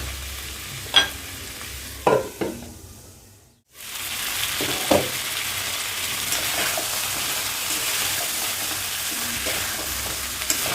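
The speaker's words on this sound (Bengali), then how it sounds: "তো এই মশলাটার সঙ্গেই আমি লো আঁচে কষিয়ে নিচ্ছি।" Mutton frying in spices over low heat for a curry, a continuous close sizzle with scraping stirring strokes and a few sharp clinks of the spoon, briefly dropping out before the hiss resumes steadily.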